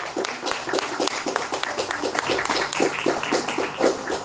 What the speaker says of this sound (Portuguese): Vamos dar uma salva de palmas bem forte para o nosso Deus